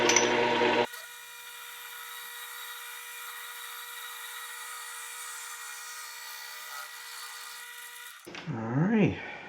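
A lathe bores out a Damascus steel ring made for an M1 Garand, giving a steady, sustained metallic whine for several seconds, with brief louder handling noise at the start and end.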